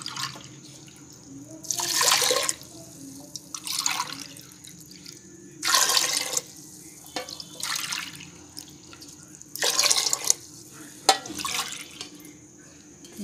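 Water goes in cupful by cupful onto broken wheat in a pressure cooker, about five separate splashing pours with quiet pauses between them.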